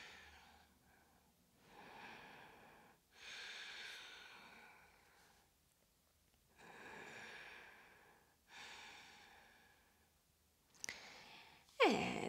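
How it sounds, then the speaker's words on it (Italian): Slow, deep breaths during a seated yoga twist, each inhale and exhale audible and close, repeating in a calm rhythm with soft sighing exhalations. "Facciamo ancora qualche bel respiro qui."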